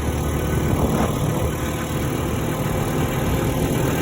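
A secondhand 125cc motorized tricycle is driven along a road, its engine a steady, loud, continuous drone with road rumble and no clear changes in pace.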